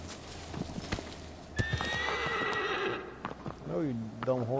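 A horse in the Shadow of the Colossus game on PS4 Pro neighs loudly with a long whinny, alongside hoof clip-clops and a second whinny near the end, with a person talking over it.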